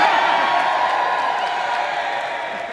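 Wedding guests from Long Island cheer and whoop as a big crowd, a steady, loud wash of voices and applause-like noise holding for a few seconds and easing slightly toward the end.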